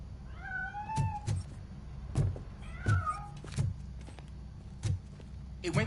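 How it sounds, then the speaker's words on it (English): Cat meowing in the video game Robocop Rogue City, several drawn-out mews in the first few seconds mixed with footsteps and thumps of the game. "That cat must be hiding inside."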